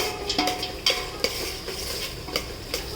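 Peanuts and date pieces being stirred into cooked vegetables and dal in a pan, with scraping spoon strokes and faint clinks over a low sizzle, steady and close.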